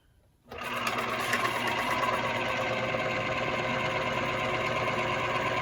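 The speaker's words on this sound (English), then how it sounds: "Now we're going to turn on the pump or the motor." A chocolate fountain's pump motor switches on after a brief quiet moment and then runs as a steady, even mechanical hum with a faint rattle.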